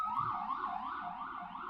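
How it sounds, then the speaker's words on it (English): A fire truck siren wails in a steady rising and falling pattern, moderately distant and continuous, with no talk over it. "until they hear the fire truck that rolls through."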